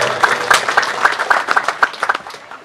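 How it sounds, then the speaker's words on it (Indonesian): Applause for a new DPR member at a new-house blessing service, a short burst of hand clapping, fairly close and loud, with uneven individual claps rather than a large crowd. "Kita beri aplaus untuk Pak Dewan."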